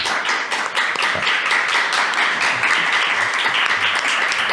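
A studio audience bursts into sustained applause to welcome a sociologist and professor as she joins a podcast, with dense clapping that stays steady and full throughout and no talking over it.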